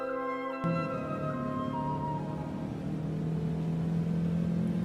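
A car drives along, a steady low engine rumble and road noise filling the cabin after an abrupt start, with a sustained tone holding underneath throughout.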